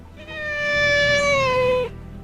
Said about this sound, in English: this is my cat Daisy